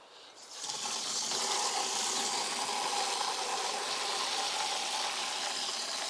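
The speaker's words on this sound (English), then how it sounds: "So I'm just going to fill this up with water." Water running from a tap into a container in a garden, a steady continuous rushing gush that starts abruptly and holds at an even, close level throughout.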